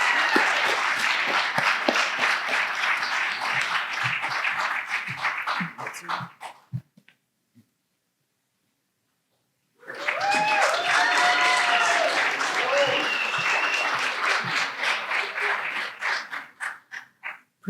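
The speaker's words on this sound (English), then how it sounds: "Let's give a round of applause for Cristian Pedraza." Sustained applause from an audience at a physician assistant studies awards ceremony, a dense wash of clapping that fades out, a few seconds of near silence, then a second long burst with some cheering mixed in.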